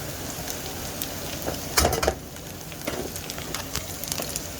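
Onions, garlic and ginger sauté in a pan with a soft, steady sizzle and crackle close by, broken by a brief louder burst of clatter partway through.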